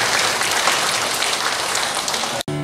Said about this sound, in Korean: 신앙들을 위해서 박수 한번 다시 합니다.